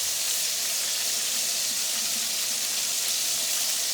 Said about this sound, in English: start frying like the other one